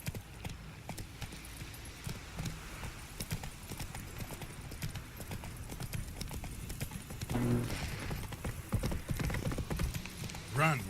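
Rhythmic clip-clop of Roach, a horse galloping in the video game The Witcher 3, running steadily throughout at moderate loudness, with game sounds and a voice faintly mixed in.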